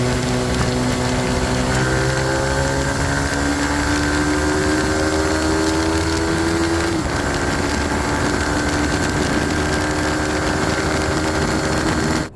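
A Yamaha R15 V4 motorcycle engine runs loudly and close, its buzzy tone rising steadily before dropping off, then holding a rough, noisy drone.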